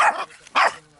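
A dog barks at a campsite, two loud, close barks separated by a short pause, with no talk over them.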